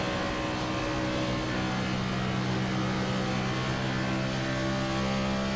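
Sustained engine drone of a stock race car pushing about 190 mph down the backstretch at Kansas in a racing video game, steady harmonic roar throughout with no talk.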